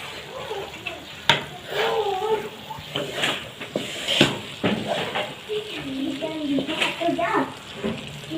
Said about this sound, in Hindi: इसको हम हिला लेंगे अब